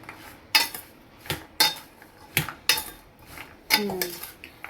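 Green peas being mixed into a pan with a metal spoon for an Indian home-style dish, producing sharp clinks and scrapes at irregular intervals about every half second, close and fairly loud, with no speech.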